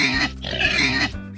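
A pig grunts and oinks in a quick pair of close, loud snorts with a short break between them.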